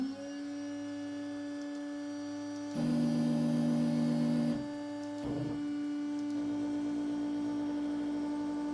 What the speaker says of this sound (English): I have the spindle on.